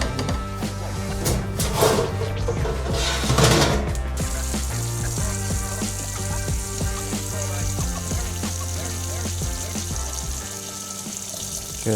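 Shower water running steadily in a home bathroom, a constant loud hiss and splash with faint clinks and knocks of fixtures, continuous and close throughout.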